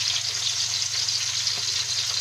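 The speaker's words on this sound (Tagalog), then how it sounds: "nagpiprito po ako ng isda" Steady, close sizzling of fish frying in hot oil in a pan, a constant bright crackle with a low hum underneath and no talking.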